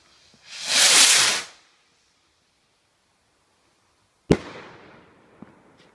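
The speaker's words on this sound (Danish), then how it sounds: "Nu har jeg en stjerneblink for Bygma, tror jeg det er." A Bygma stjerneblink firework goes off outdoors: a roaring hiss lasting about a second, a pause of silence, then one sharp loud bang followed by faint crackling.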